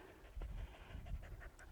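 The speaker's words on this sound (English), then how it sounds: "Little hot dog." A dog pants rapidly and quietly close by on a summer walk near Notgrove in the Cotswolds, quick rhythmic breaths over faint outdoor background noise.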